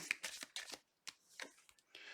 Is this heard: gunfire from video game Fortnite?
no